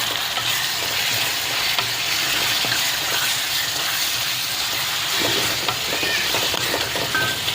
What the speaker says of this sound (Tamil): ஸோ நல்லா கொத்தி விட்டுருக்கேன், வதங்கிடுச்சு